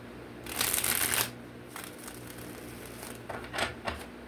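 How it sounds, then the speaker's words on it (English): A deck of cards is shuffled close by in a few quick riffling bursts, one long flurry followed by shorter ones, with no talk over it. "Let's shuffle this one good."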